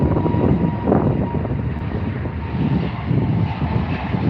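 A British Airways airliner departing London Heathrow, its jet engines a loud, steady broadband roar that holds for the whole stretch without a break.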